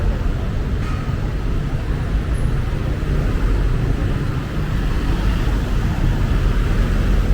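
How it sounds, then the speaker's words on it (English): Street traffic in Makati, a steady, loud broadband roar of passing vehicles and engines with no clear breaks. "Traffic."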